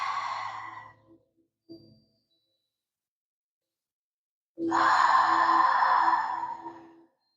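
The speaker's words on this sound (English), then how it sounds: "some deep breaths, palms to heart. Inhale deeply." Slow, deep breathing: a long exhale that fades out, a brief breath, a silent pause, then a longer, fuller breath close to the microphone, with no other sound.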